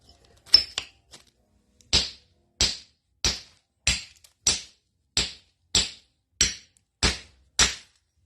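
A hammer strikes geodes again and again, ten or so sharp cracking knocks at an even pace after a couple of earlier taps, close and clear.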